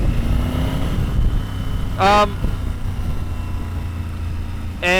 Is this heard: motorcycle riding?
yes